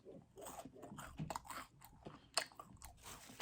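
Crunchy chewing and biting during a spaghetti mukbang eating show, close and fairly faint, with irregular bites and a sharper crunch near the middle, no talk.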